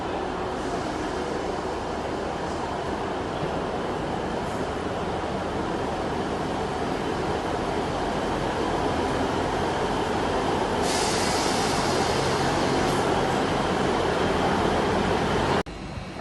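British Rail Class 800 train at Exeter St David's station, a steady loud rumble of the train running throughout, with a brighter hiss joining near the end before the sound cuts off.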